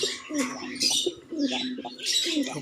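Soft, repeated pigeon coos in a low rolling rhythm, close by, with brighter chirping and rustling above them.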